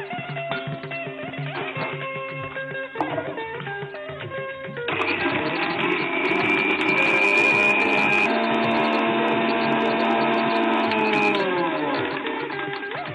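Mixer grinding roasted spices into powder, a steady motor whine that rises and thickens partway through, then runs continuously at close range with no talk.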